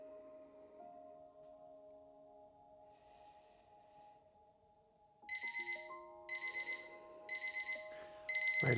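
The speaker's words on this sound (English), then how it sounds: "You can hear that is our timer." A yoga session timer alarm goes off as four loud, evenly spaced bursts of rapid electronic beeping, following soft sustained tones with no talk.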